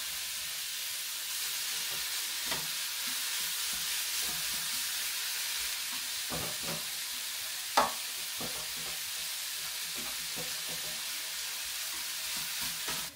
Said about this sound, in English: the mince that I'm cooking now